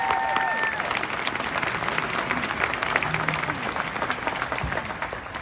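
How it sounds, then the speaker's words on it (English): Graduation audience at St. John Bosco High School applauds the 2022 graduating class, a sustained wash of clapping from a large crowd filling the whole stretch, with brief cheers near the start. "let's clap it up for your 2022 St. John Bosco High School graduating class"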